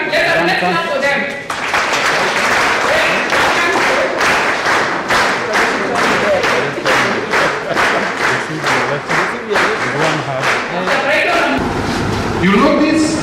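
An audience claps together for people being introduced at an event, a loud, steady wash of applause lasting several seconds with sharp individual claps standing out. It starts behind a brief voice and swells again near the end.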